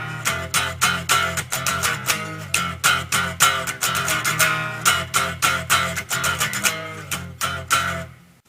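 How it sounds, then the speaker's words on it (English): Heavy distorted electric guitar repeats the opening sections of a song's main riff: rapid, driving palm-muted chugs and accented chords in a steady busy rhythm, loud and up front, ending abruptly, with nobody talking. "so the 3rd and 4th part of the main riff is actually just repeating the 1st and 2nd part."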